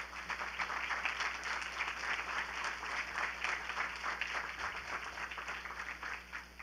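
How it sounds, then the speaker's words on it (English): Sustained audience applause for panelists at a policy event on the Venezuelan exodus, a dense, steady wash of many hands clapping at moderate volume throughout, with no speech over it. "why don't we give our panelists a nice warm round of applause."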